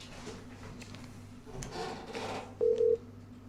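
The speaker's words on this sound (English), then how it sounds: "Right, it is ringing." An outgoing telephone call on a live radio talk show rings out as two short electronic ring tones near the end, heard faintly over a low room hum with light background rustle.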